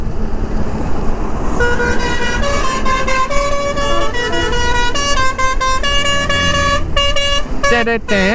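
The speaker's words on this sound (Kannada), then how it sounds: "ಹಾರ್ನ್ ಹಾಕು" A motorcycle horn blares in loud repeated toots over a roaring engine and road noise, near a group of superbikes including a Kawasaki Z900 and an Apache 310 RR, with voices talking throughout.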